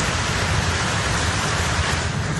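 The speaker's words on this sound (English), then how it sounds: "In Nantes, more than 100 millimeters of rain fell in just a few hours." Heavy rain pouring down in Nantes, France, a dense, loud, unbroken hiss of downpour filling the whole moment with no voices.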